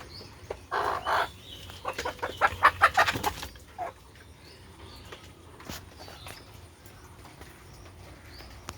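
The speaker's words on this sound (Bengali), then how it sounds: "এই যে দেশি মুরগি" A native deshi hen clucks and squawks in a quick agitated burst up close, then quieter scattered clucks and rustling follow.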